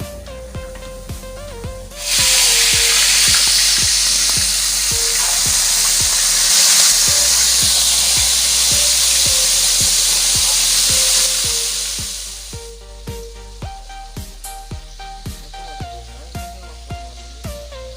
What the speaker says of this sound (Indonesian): Kita mau goreng ikan dulu.